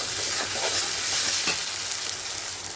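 Ginger, garlic and onion paste frying with chicken stomach in a pan, a loud steady sizzle with scraping stirring strokes throughout and no voices.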